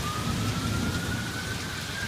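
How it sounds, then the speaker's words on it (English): Steady heavy rain pours continuously with a low rumbling undertone like distant thunder, and a faint high tone drifts across in the background. "No power, lots of rain, thunderstorms, and lots of lightning"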